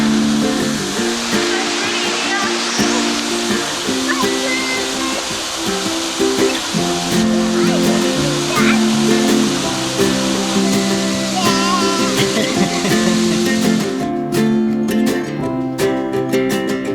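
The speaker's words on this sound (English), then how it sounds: "there's the waterfall, 50 metres away from the car park" A waterfall on Reunion island, about 50 metres from a car park, rushes in a loud, dense, unbroken roar close by.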